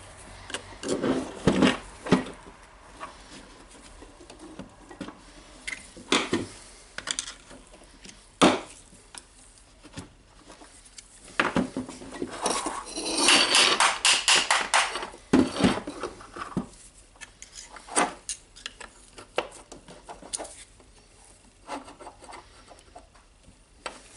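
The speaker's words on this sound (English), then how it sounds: "try to get a screwdriver here and take this part out" Scraping, clicking and knocking as a screwdriver pries a stuck part out of a Makita BJV180 jigsaw during disassembly, in irregular close-up bursts with quiet pauses between.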